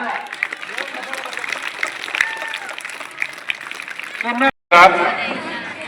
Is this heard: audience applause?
yes